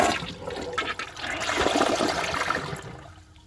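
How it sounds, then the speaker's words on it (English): A 2020 Gerber Maxwell wall-mounted toilet flushes with a strong, close rush of water that swirls and drains, then tapers into a trickle as it finishes. "It flushes just like a floor-mounted toilet"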